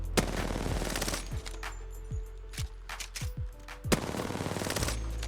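An R99 submachine gun in Apex Legends fires in rapid full-auto bursts, loud and close, with short pauses between strings of shots and a final sustained burst, and no talk.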